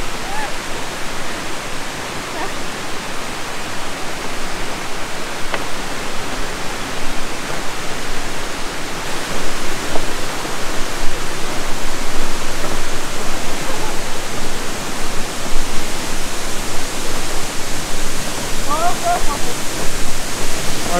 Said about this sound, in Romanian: Cam așa arată cascada, are doar 12 metri înălțime